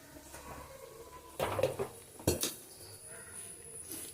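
A ladle stirs a Kerala erissery of yam and raw banana in a pot, giving two short bursts of metallic scraping and clinking against the vessel over a quiet background.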